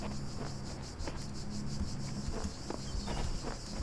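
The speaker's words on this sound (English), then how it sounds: "Oh, the crickets are very realistic bug noises" Crickets chirping in the video game The Talos Principle, a continuous dense trill of rapid pulsing insect calls over a soft ambient bed.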